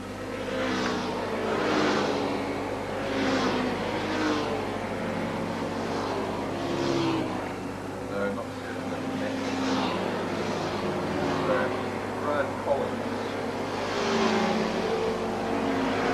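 Racing motorcycle at a six-hour endurance race arriving into the pits, heard as steady engine drone with rising and falling revs, several bike passes sweeping by, continuous crowd and circuit noise and commentary-like voices underneath.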